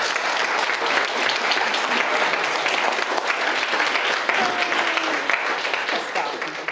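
Wedding guests break into dense, sustained applause, a thick wash of many hands clapping at once that holds steady and close throughout.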